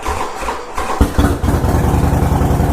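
A Harley-Davidson Nightster motorcycle engine hesitates briefly, then catches and settles into a loud, close, rapid throbbing idle rumble.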